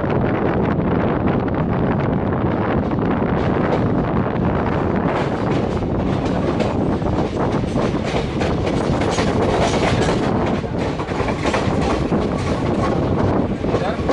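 The 12619 Matsyagandha Express runs between Mumbai and Ratnagiri with a loud, unbroken roar of wheels and heavy wind buffeting the microphone, as if heard from an open train door.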